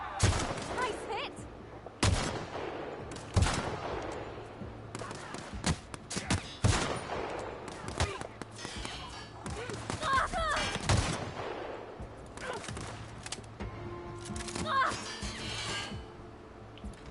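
Rifle shots in The Outer Worlds, sharp separate cracks spaced a second or two apart, loud and close, with game sounds and occasional voices in between.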